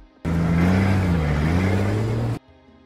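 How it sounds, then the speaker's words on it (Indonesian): A fuel truck's engine drones loudly with a low, steady hum that shifts slightly in pitch, then cuts off abruptly after about two seconds. "Setelah truk bahan bakar kembali pergi"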